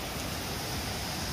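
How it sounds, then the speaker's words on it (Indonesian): The Batu Manrusu waterfall, its water running muddy after rain, gives a brief, steady rushing roar with no voices over it. "Air terjun Batu Manrusu"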